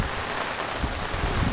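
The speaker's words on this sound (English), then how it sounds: "So we're really getting some rain" Heavy tropical-storm rain from Fay pours down outdoors, a steady dense hiss of downpour with no voices and no letup throughout.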